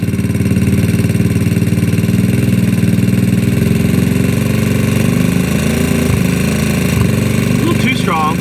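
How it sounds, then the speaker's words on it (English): GY6 scooter engine idling steadily and close while its carburetor idle screw is adjusted, a loud even putter with a faint squeak near the end. "I'm going to turn on the idle screw more"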